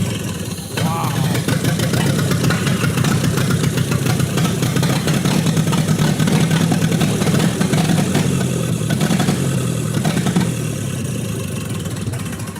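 A Ford Model A engine cranks and catches, then settles into a loud, steady idle with a rough, throbbing rhythm that holds close and strong before easing slightly near the end.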